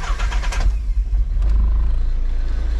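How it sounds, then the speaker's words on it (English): The engine of a Nissan 300ZX project car cranks and catches, then settles into a steady low idle close by. "What I personally like to do is start the car"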